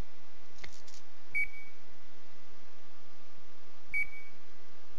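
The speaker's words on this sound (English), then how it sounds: "Something is beeping." Two short electronic beeps from the video game Dark Fall: The Journal, a second apart then again about three seconds later, clean and isolated over a faint hum.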